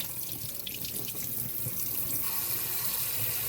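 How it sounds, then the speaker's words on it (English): Tap water runs steadily into a sink while cucumbers are washed, a continuous close splashing hiss with no talking. "Let's get those cucumbers washed."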